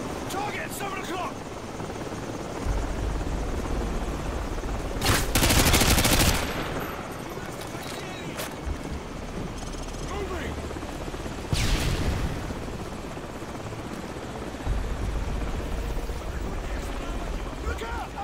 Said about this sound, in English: Be advised, we've got enemy helos approaching from the northwest and southeast. Enemy choppers in 15 seconds.